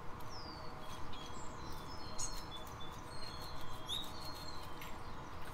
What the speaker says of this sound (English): listen to the sounds of the birds